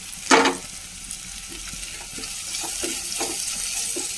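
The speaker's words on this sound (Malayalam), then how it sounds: "ഒരു വലിയ സബോള അരിഞ്ഞതാണ് ഇട്ട് കൊടുക്കുന്നത് കനം കുറച്ച് അരിഞ്ഞത്" Thinly sliced onion for prawn rice drops into a pan, with a brief crackle, then a soft, steady sizzle and faint stirring scrapes, fairly quiet and close.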